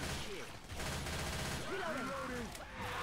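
Steady gunfire in the zombie shooter Left 4 Dead 2 during a Versus match, continuous shots under layered game effects with no clear talk.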